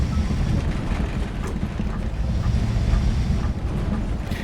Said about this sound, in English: I really love the engine sounds on this one. It just sounds like an old bus.